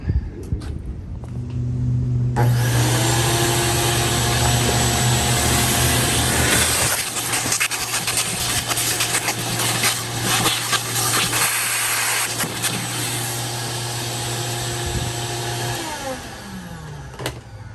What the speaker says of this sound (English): now we can vacuum all this stuff out